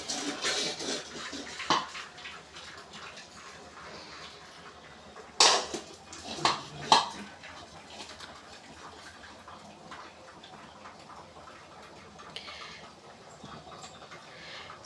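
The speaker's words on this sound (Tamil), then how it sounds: "இது மாதிரி தான் நாங்கள் எப்போவுமே கிளாஸ் டம்ளர் வச்சு வடிகட்டுவோம்" Cooked rice water is strained off using a glass tumbler held against the pot, giving a soft trickle and pour of water with a few sharp clinks of glass and metal over several seconds.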